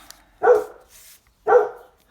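Two loud, close dog barks, about a second apart, with quiet around them.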